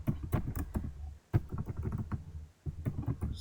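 A database query being typed on a computer keyboard: a quick irregular run of close, crisp key clicks, broken by a short pause, with no talking.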